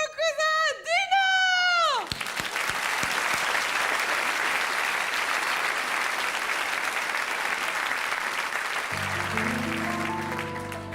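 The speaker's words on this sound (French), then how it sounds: "je vous demande de l'applaudir très fort" A theatre audience at a Marigny variety show breaks into loud, sustained applause that follows a short sung phrase, the clapping dense and steady for several seconds before music begins under it near the end.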